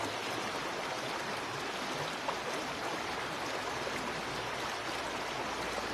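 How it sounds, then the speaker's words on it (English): A river rushes in a steady, broad wash of flowing water, continuous and fairly loud with no voices over it. "as we listen to the sound of the river"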